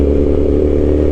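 A loud, steady S1KRR motorcycle engine rumbles close by, its deep exhaust note holding constant throughout with a brief dip at the very end.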